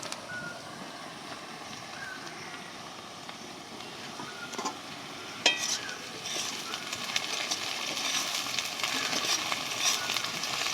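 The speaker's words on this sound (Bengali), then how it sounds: "পেঁয়াজটা আমার আধা ভাজা হয়ে গেছে, আমি এখন সেই কুচনো ক্যাপসিকাম লঙ্কাটা দিয়ে দিচ্ছি।" Half-fried onion and chopped capsicum chili sizzle in a pan for a country chicken curry. A steady hiss grows louder and busier after a clatter as the chili goes in.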